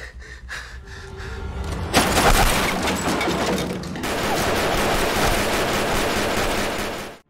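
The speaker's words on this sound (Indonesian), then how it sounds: "Melihat tembakan Samidi yang sangat jitu, Jungsuk pun memilih untuk melarikan diri." Sustained, dense gunfire rattles continuously, with a sharp burst partway through that intensifies into a heavy, unbroken barrage until it cuts off.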